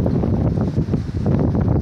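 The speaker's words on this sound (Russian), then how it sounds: "слышно, как бешено мощно дует ветер" Strong wind blowing on a sunny November day on a mountain in Pyatigorsk, a steady loud roar buffeting the microphone throughout with no talk.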